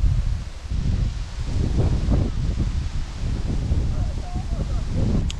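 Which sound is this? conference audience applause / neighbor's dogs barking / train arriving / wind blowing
wind blowing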